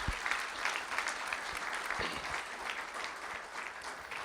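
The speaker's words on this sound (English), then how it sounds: "Let's give a round of applause to our Voice of Democracy audio essay contests." Attendees at a school district board of trustees meeting applaud Voice of Democracy audio essay contest winners, a sustained, even wash of clapping at moderate level with no talk over it.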